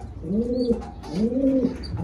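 Pigeons in a coop cooing, two clear rolling coos close by and fairly loud, each rising and falling, with no talk over them.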